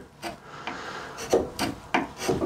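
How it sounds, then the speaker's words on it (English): Wood end grain is sanded by hand in short, rasping strokes, about five quick scrubbing passes, close and fairly quiet. "and then give it a little bit of sanding if you want."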